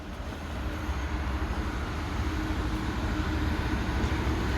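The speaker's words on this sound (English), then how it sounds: "there's a Southern service passing through" A Southern passenger train rumbles past a West Sussex line on a rainy day, a steady low roar sustained at moderate distance with no voices over it.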